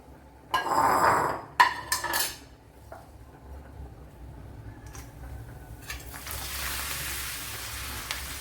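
Pieces of pappadam dropped into hot oil for a pappadam sweet: a few clattering utensil knocks early on, then a rising, steady hiss of frying that grows louder toward the end.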